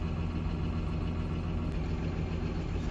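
A tractor engine runs steadily in a field during baling, a low, even mechanical drone at moderate distance with no voices.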